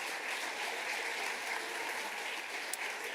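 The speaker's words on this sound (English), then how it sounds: "Let's give our senior council a big round of applause." A high school awards audience applauds its senior council, a steady, moderately faint wash of clapping that stays even from start to finish.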